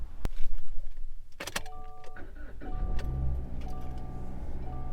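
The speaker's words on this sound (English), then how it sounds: "Let's go ahead and start the car." A car being started after an under-hood check: a sharp click, then an engine cranks and catches into a steady idle, with faint electronic chimes and tones sounding over the running motor.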